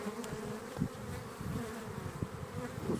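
A dense, steady hum of many honeybees buzzing close by at an open hive, with individual bees droning louder as they pass near.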